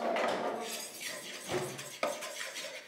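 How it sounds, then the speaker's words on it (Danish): Homemade green slime gets stirred round and round in a bowl, giving close scraping, clinking sounds of a utensil against the bowl in uneven strokes, with a couple of sharper knocks; no talking. "så når man putter det i, så rører man bare rundt og rundt"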